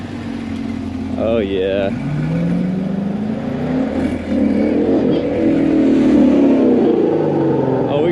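2018 Chevrolet Camaro ZL1 idling with a deep rumble and then revving up, loud and close, with voices talking over the engine.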